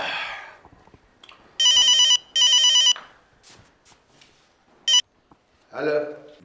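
An electronic telephone ring sounds in two loud bursts, then a short third chirp, with muffled talking and background noise between them.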